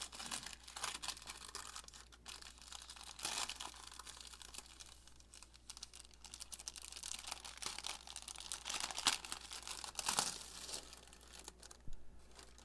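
Plastic wrap around new guitar strings from a Fesley FST-100 guitar kit crinkles and rustles close up in quiet bursts, soft and intermittent with no talking.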